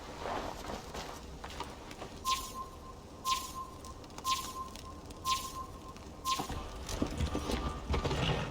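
A horse gallops in Assassin's Creed Valhalla, its hooves thudding in a steady run of beats over outdoor ambience and faint birdsong, fairly near, with no voices.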